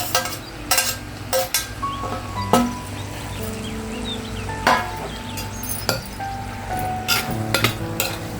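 Chopped tomatoes cook in a pan for garlic kuzhambu with a soft sizzle, punctuated by sharp clinks and scrapes of a spoon against the pan, close and moderately loud, with no talking.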